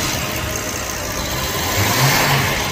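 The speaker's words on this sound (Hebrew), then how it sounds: "תן גז! רבותיי, מנוע V12." A Rolls-Royce V12 engine runs with a steady, smooth mid-range hum that swells slightly as it is revved. The sound is fairly loud and continuous, with no voices.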